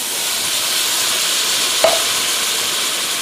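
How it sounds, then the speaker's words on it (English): Two cans of diced tomatoes going into a pot of browning onions: a steady, close sizzle and hiss throughout, with a faint soft clunk partway through and no talking. "I'm going to go ahead and add 2 cans of diced tomatoes."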